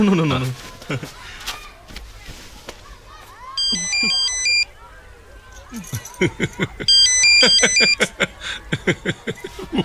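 A mobile phone ringtone in a Telugu film scene plays its electronic melody twice, bursts of chiming tones amid footsteps, background music and people speaking.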